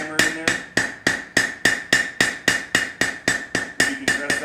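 A hammer taps hot glass in a quick, even series of about seventeen sharp metallic strikes, each with a short ringing tone, close and clear.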